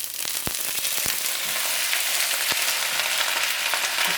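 Chopped garlic sizzling in a hot pan, a steady bright frying hiss close by with scattered pops and crackles, no voices.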